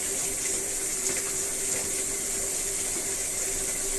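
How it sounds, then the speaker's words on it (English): Steady, continuous running water from a tap while a dog is washed, a constant hiss without pause. "Wash his back. Wash his feet."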